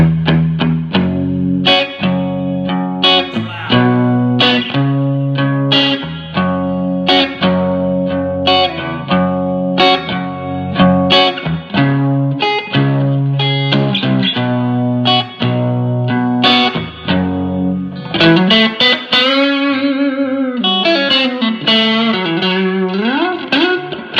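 Electric guitar, a Les Paul or Strat, played through a Fender Blues Junior IV tube amp with reverb, a steady run of plucked notes and chords with a sustained, bending passage near the end, loud throughout.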